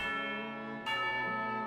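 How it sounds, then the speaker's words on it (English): A single bell strike in Genshin Impact signals tea time, a clear resonant ring with long sustained overtones that swells once and decays slowly, alone and fairly quiet. "You hear the sound of a bell."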